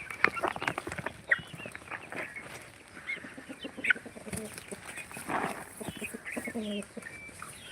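Several free-range village chickens cluck and call at varying distances on a poultry farm, with short bursts scattered across an outdoor farmyard background.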